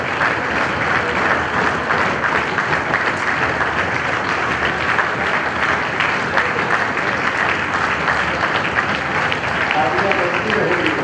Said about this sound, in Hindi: तालियां बजती रहेगी।